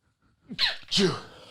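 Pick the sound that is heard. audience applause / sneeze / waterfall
sneeze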